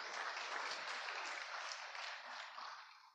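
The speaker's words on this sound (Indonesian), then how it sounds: "tepuk tangan buat Allah kita yang luar biasa" A church congregation claps together in steady, sustained applause that fills the room, dense and even, then fades slightly toward the end.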